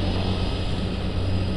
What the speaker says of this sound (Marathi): आता हे दुसरं पण विमान इकडे निघालेलं आहे.